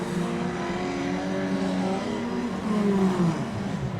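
Midget race cars roar around the Oceanview speedway, a dense, loud drone of several engines with shifting pitch as cars pass and rev, continuous throughout without pause.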